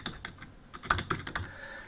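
Keys clatter on a computer keyboard in a short quiet burst of several uneven taps, close and isolated, with no voices.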